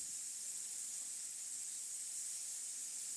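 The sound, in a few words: spraying paint on a painting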